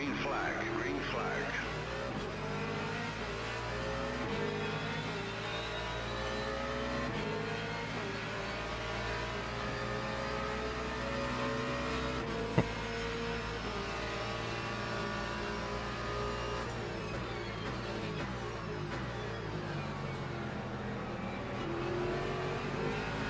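Engines roar as Ford and Corvette race cars, alongside LMP3 prototypes, take the green flag start in the Le Mans Ultimate video game, with a steady, continuous rising drone from many engines under a speaking voice.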